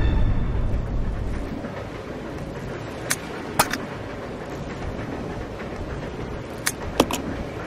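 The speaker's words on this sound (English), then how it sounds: "Train will either derail or crash." A train running in the Resident Evil 0 video game, a steady rumbling roll of wheels and carriage with a few sharp metallic clanks and ticks scattered through, no voices.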